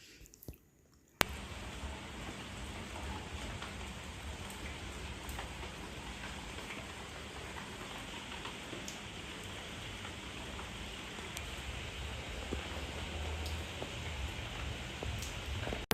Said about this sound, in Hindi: तो पिछले आधे घंटे से बारिश हो रही है